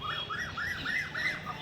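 A pet pigeon, a closed-tail breed kept at a home in Nabadwip, calls nearby: a quick run of about six rising-and-falling chirps in an even rhythm over light background noise.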